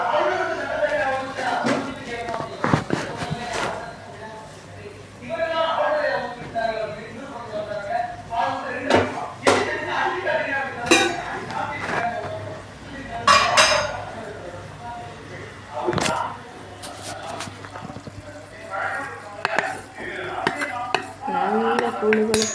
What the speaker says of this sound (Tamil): சேர்த்துக்கிட்டு நல்லா கிண்டுங்க.